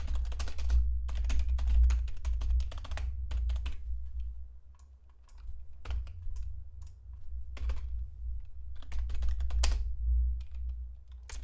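Steady typing on a computer keyboard while writing a code script, with dense clusters of keystrokes, a short pause in the middle, then more rapid tapping, close and fairly quiet with a low hum underneath.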